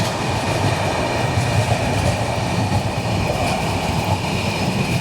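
Train 12767 Hazur Sahib Nanded–Santragachi SF Express running on rails near Bhokar in Nanded district, a steady close rumble of wheels and carriages with faint rhythmic clatter, continuous and loud throughout.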